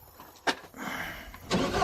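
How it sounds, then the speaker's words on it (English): An abandoned boom lift that has sat unused for over a year cranks over, with a sharp click, a rough churning start and a second surge as the engine catches, heard close and fairly quiet. "Won't be charging, but let's see if it fires up."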